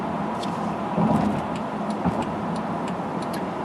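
A 2012 Mercedes-Benz E550 4Matic cruising on a road test-drive route, giving a steady, moderate interior rumble of engine and road noise with a few faint ticks and clicks, no talking.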